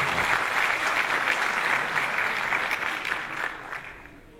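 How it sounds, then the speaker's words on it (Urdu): A mushaira audience applauds to welcome a poet, steady crowd clapping that stays fairly loud for about four seconds before thinning and fading out at the end. "لیکن آپ کی تالیاں ان کا وہ استقبال نہیں کر رہی"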